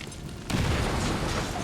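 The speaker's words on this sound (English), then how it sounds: "Grenade him." A grenade going off in XCOM 2, a sudden loud low boom that erupts after a short quieter lead-in and rolls on as a broad rumbling blast for over a second.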